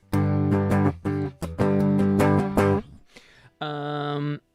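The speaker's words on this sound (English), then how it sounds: "So this is the guitar sound that just happens to be on here" A DI electric guitar through an amp simulator plugin plays distorted, chugging palm-muted chords in a choppy rhythm, pauses, then rings out a sustained chord; no voices.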